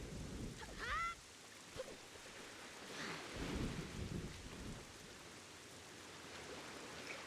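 Rain and rumbling thunder in the video game Wind Waker, a steady wash of rainfall with low thunder swells and a brief chirping call near the start, moderately quiet throughout.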